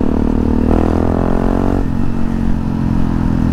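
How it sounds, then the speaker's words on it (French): XTX motorcycle engine running steadily while riding along a country road, a loud, continuous close drone whose pitch holds, then drops slightly midway as the rider eases off. "Je l'aime tellement, cette moto."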